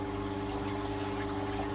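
Shallow warm water pouring and pumping into a crab aquarium, a steady gushing, bubbling flow with a constant low mechanical hum underneath, no voices.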